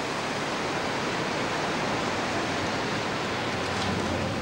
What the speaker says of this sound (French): cette improbable machine à vagues, le tout sous une piscine géante et surchauffée